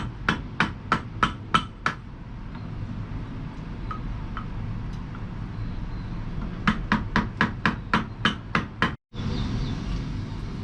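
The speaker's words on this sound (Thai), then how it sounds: "เราตอกยางลงไปนั่งในร่องของตัวรองมันแล้วฮะ" Sharp metallic hammer strikes seating a rubber seal into a shock absorber, in two rapid bursts of about six blows each, close and loud, with a steady mechanical hum underneath.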